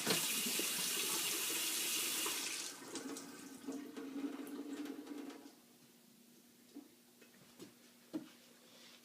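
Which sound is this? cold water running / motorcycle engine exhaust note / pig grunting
cold water running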